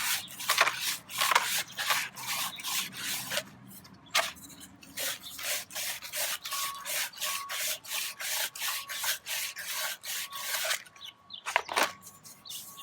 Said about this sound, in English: This sandpaper is going to help take off that rough edge so that cap will slide off and on easily.